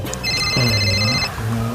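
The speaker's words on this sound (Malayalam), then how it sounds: "എന്റെ ഫോൺ ബെല്ലടിക്കുന്നു" A phone rings with a steady electronic ringtone, clear and close, layered over a low hum and some background voices.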